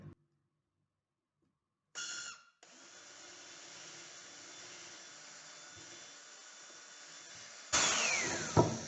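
A power drill bores a pilot hole for a screw in wood while building a corner shelf: a short burst, then a steady whirring run of several seconds, ending in a louder, harsher surge as the bit bites.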